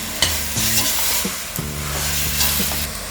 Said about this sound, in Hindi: सब्जियों को अच्छी तरह से हम फ्राई करेंगे।